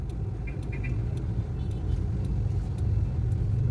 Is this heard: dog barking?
no